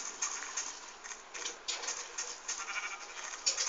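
Sheep in a survival video game give off a run of bleats and rustling game sounds, moderately loud and unbroken, without speech.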